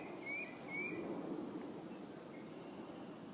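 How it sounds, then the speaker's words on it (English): Faint songbird calls whistle in short repeated phrases in woodland over a soft, steady outdoor rumble, distant and quiet. "We hear a number of different kinds of birds in the background"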